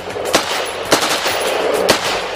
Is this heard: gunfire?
yes